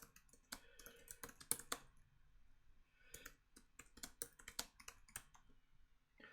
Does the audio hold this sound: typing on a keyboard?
yes